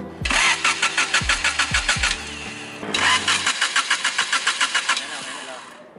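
A Honda car engine with distributor and high-tension wire trouble is cranked in two loud bursts of rhythmic starter pulses, about two seconds each, separated by a short pause, before the sound fades.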